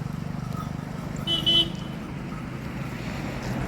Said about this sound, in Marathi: गाडी आली रे